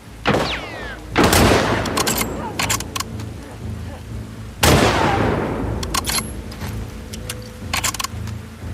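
Gunfire in the video game The Last of Us Part II, two loud sharp bursts with ringing tails over a low rumbling game ambience, a brief voice murmur between them.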